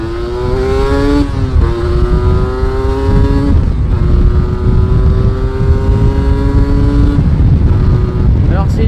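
A Yamaha TDR 125 motorcycle, a heavy 125 with a six-speed gearbox, accelerates hard through several gears, its engine note rising and dropping at each shift, loud and close under steady wind noise.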